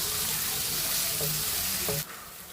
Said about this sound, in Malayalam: നല്ലതായിട്ട് നമുക്കൊന്ന് വഴണ്ടെടുക്കാം